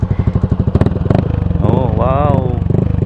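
Honda Click 125i and Yamaha NMAX 155 scooter engines running close by, with a rapid, pulsing idle putter, a brief rev rising and falling in pitch, and people talking over the engine noise.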